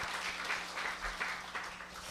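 A church congregation claps in thanks for its elders aged sixty and over, a soft, distant patter of many hands heard over a low hum in the room.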